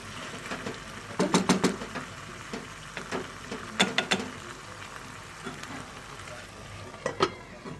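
Eggplant roasts in a covered pan over low flame, giving a soft steady sizzle broken by a few sharp clattering knocks and scrapes from the lid or utensil.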